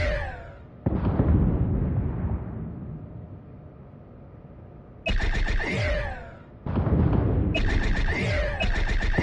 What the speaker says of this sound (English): Target the nearby ship and fire phasers at it.